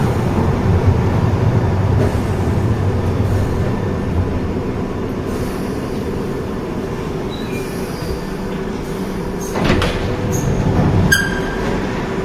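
A London Underground Piccadilly line train rolling along at a steady loud rumble, with wheels squealing on the rails and a cluster of higher metallic tones and clunks near the end.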